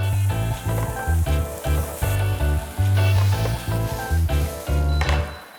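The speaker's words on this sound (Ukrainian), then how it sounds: "просто щоб обсмажилася морквочка, потім обсмажувалася цибулька і селера." Carrots, onions and celery sizzling as they fry in a pan for bolognese sauce, loud bursts of crackling sizzle broken by short scraping stirs, close up and with no one speaking.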